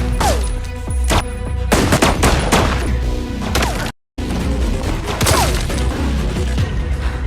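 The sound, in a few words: gunfire in a shootout, film scene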